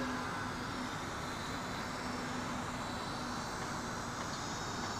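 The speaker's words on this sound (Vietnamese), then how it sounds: "Nó tự hạ cánh quý vị các bạn này." SJRC S70W GPS drone descending for an automatic landing outdoors, a steady dense whirring buzz of small propellers with a faint underlying hum, unchanging for several seconds at moderate distance, no talk.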